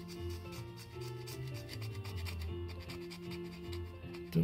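A tool scrapes acetone residue off the surface of a 3D-printed part in steady, close rasping strokes, with a low hum running underneath throughout.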